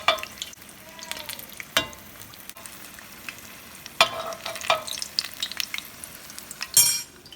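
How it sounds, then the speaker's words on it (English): Chiles rellenos fry in a shallow layer of oil, giving a continuous soft crackling sizzle punctuated by several sharp, louder spatters and pops, close by and with no talking. "you do not need a lot of oil to fry these chile rellenos"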